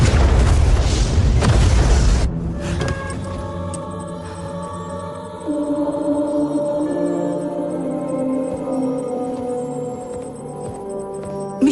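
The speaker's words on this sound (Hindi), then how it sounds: "30 सेकंड में धमाका हो जाएगा।" A missile explosion in a Hindi action film lands as a loud, deep boom and roaring blast for about two seconds, then gives way to a sustained dramatic musical score with swelling tones.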